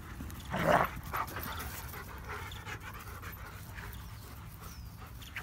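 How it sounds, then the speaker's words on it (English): German Shepherd dogs pant steadily at close range, with a brief louder whimper or yelp near the start and quieter breathing continuing throughout. "Here's the neighbor's dog, the male Duke, Miss Kylie."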